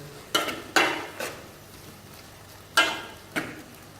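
A spoon scrapes and clinks through white sauce macaroni pasta in a pan, with five short, sharp stirring strokes in two clusters over a faint sizzle, heard close with no talking.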